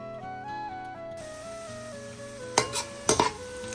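Onions sizzling and frying in oil until crisp and golden for chicken haleem, a steady soft hiss with a few clinks of a utensil stirring the pan near the end.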